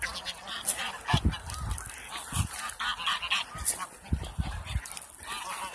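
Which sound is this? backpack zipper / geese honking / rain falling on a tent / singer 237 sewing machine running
geese honking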